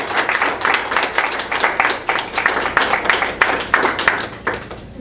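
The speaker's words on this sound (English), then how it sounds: "Let's just give him one more round of applause." An audience at a poetry reading event gives a round of applause, dense steady clapping from many hands that holds at an even level throughout and thins slightly toward the end.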